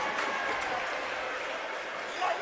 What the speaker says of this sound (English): Geez, the Wallan crowd's getting loud in here